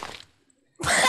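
A single sharp human sneeze bursts out after a brief hush, loud and close.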